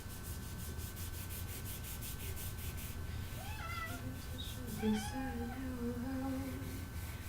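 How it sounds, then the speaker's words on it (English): A cat meows in a quiet indoor room, a few rising and falling cries that start faint and grow clearer, with soft rubbing sounds underneath. "There's my cat there. Yes, I hear you."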